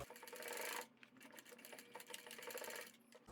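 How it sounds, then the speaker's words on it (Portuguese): Sewing machine stitching the edges of a waxed canvas pouch: a fast, steady mechanical whir of needle strokes, pausing briefly then running on again, close and alone. "Aqui eu já costurei nos 4 lados, olha, já estão todas fechadas."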